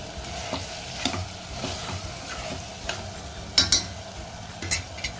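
Boiled vegetable pieces stirred into sizzling sambar base in a pot, a steady frying hiss broken by a series of scraping stirs and light spoon clinks against the vessel, close and without speech.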